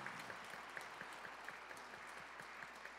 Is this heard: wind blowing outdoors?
no